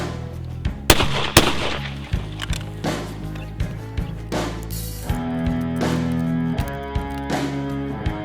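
Several sharp, loud blasts from a 20 gauge shotgun firing reloaded Winchester Super Target shells, spaced unevenly across the stretch with ringing decay and a steady background hum, no talking.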